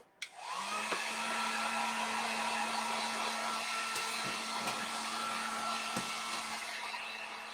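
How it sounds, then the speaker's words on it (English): A heat gun dries freshly stenciled paint on home decor, switching on with a click and then blowing a loud, steady whirring hiss to the end, with a few light taps along the way. "I'm going to use my heat gun to go ahead and dry what I stenciled on"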